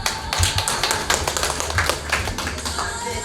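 A welcome round of applause from attendees at a Chinese-Korean community New Year gathering on a cruise, a dense, steady spatter of many hands clapping close by, with low murmuring underneath.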